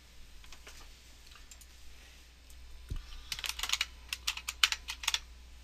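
A password is typed on a computer keyboard while logging in to an Ubuntu virtual machine: a brief hum and soft thud, then a quick burst of close, crisp key clicks.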